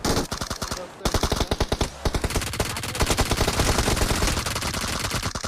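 Automatic gunfire in PUBG Mobile: rapid, loud, close-range bursts that pause briefly and then resume as sustained, evenly spaced shots.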